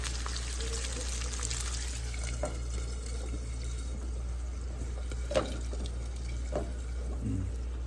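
Water poured into a hot pan to steam the top of the food, a soft, steady splashing pour over a constant low hum, with a few brief clinks and no talking.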